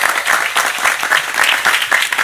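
Loud, dense clapping from an audience at an Islamic religious lecture, a continuous rush of many hands with slight pulsing swells, close and filling the space with no voices over it.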